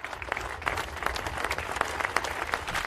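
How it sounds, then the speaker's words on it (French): A large crowd gathered outdoors at a memorial tribute for a 37-year-old police brigadier applauds steadily, a dense, even wash of many hands clapping throughout. "La foule massée pour l'occasion applaudit ce brigadier de 37 ans"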